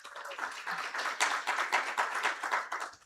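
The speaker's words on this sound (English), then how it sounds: "let's give them a round of applause" Room audience gives a round of applause for a panel speaker from a Kenyan manufacturing organization, moderate clapping that swells and stays steady for a few seconds.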